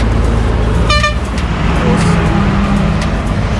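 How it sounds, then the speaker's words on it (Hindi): A car horn toots in a quick burst of short repeated honks on a busy Rajasthan highway near Beawar and Jodhpur, standing out over steady loud traffic and engine rumble from passing buses and vehicles, with a voice faintly under the roar. "हॉर्न बंद कर"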